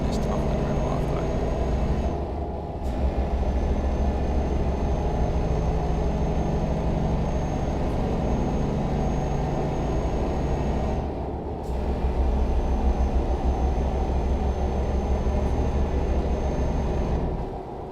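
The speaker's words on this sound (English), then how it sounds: "Noise of the truck would sound sweet in this tunnel in real life though" Truck engine droning steadily inside a tunnel in Euro Truck Simulator, a continuous low rumble with broad road noise that briefly dips twice, loud and unbroken throughout.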